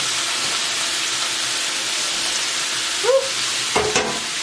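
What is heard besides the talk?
steamed vegetables added to a pot of lo mein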